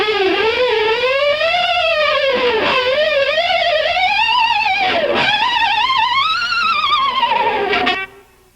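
Electric guitar harmonics, heavily distorted, swooping down and up with whammy bar bends and rapid wiggles, loud and close, one continuous wavering squeal that cuts off abruptly.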